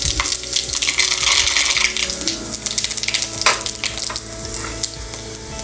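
Fenugreek, cumin and mustard seeds hit hot oil for a Nepali pointed gourd and potato curry, a loud bright sizzle that bursts at first, then settles into a steady crackle with a few light pops.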